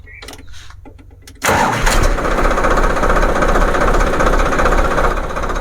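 A tractor diesel engine cranks and fires at close range, loosening from a quiet start into a loud, steady, knocking idle with a fuel pump nut only loosely fitted; brief voice sounds come before the start.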